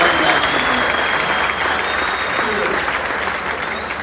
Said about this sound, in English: Let's go get yourself a round of applause, guys.